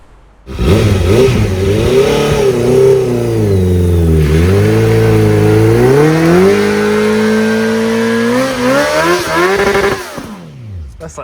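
A Honda CB650F motorcycle accelerates hard through the gears, its engine note climbing in repeated rising sweeps, loud and close, before it drops off abruptly at the end.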